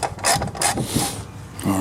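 A socket ratchet works the bolts loose on the cover of a Briggs & Stratton V-twin engine, giving close, quick clicking and metallic rattles in short bursts.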